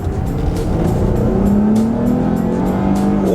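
2019 Chrysler 300 sedan heard from inside while driving down a street and accelerating, a steady engine drone climbing in pitch under road rumble, with no talking.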